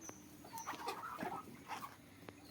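Chickens in a poultry farm shed in the Sundarbans give scattered clucks and short calls, some near and some farther off, against a low constant hum, with no talking.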